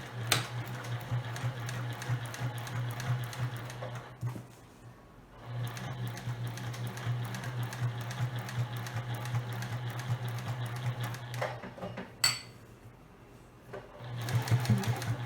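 A sewing machine back stitches fabric for a storage box, running in a steady close mechanical whir that stops briefly twice before starting up again, with no talk.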